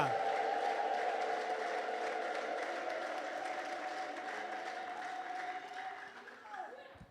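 A church congregation applauds and ululates in praise, a sustained crowd sound with a steady high-pitched trilling line through the clapping, gradually fading toward the end.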